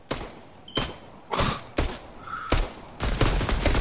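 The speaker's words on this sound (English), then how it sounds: "We're getting shot at" Gunfire in the Fortnite video game comes in repeated sharp bursts, roughly six loud shots and volleys spaced about half a second apart, close and punchy, ending in a denser flurry.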